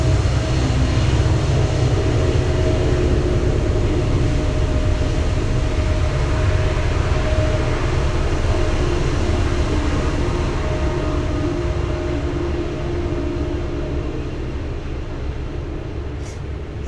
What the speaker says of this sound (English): And with the train going by, don't try to block it out.